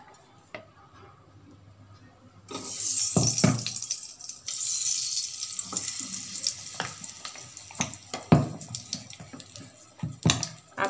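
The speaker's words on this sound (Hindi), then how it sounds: "अच्छे से मिला लेते हैं इसे, खजूर को बहुत अच्छे से फ्राई करेंगे।" Dates fry in melted desi ghee in a pan over a low flame. A bright sizzling hiss starts partway through, with spoon and pan clatters as they are stirred.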